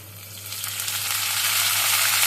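Washed curry leaves hit hot oil for rice rava upma, setting off a sizzle that swells into a steady loud crackle over a couple of seconds, close and with no voices.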